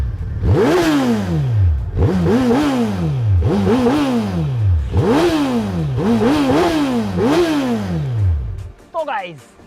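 Suzuki Hayabusa motorcycle revving hard, five repeated throttle blips that rise and fall in pitch with a crackling exhaust, loud and close, ending with a short sputter.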